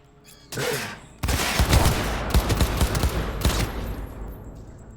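Enemy gunfire in Cyberpunk 2077 opens with a short burst, then a sustained rattle of rapid automatic shots, loud and close, dense and continuous for several seconds before trailing off.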